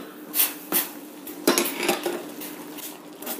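Ragi flour dough is stirred in a metal bowl, a spoon clinking and scraping against the sides in a few loud knocks followed by softer, irregular scrapes, close with no voices.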